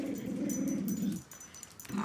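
Pet dogs growl in a low, sustained rumble up close, which breaks off midway before the growling returns briefly, with a thin whimpering edge mixed in.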